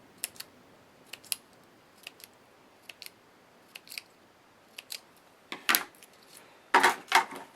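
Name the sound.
scissors cutting a strip of pearls into pieces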